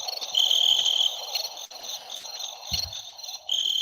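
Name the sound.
cricket chirping sound effect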